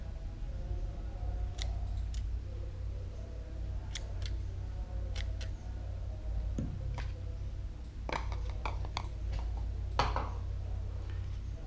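Scissors snipping thread on a string-art mandala: a scattering of small, sharp clicks and snips spread unevenly over a quiet, humming room, close and faint.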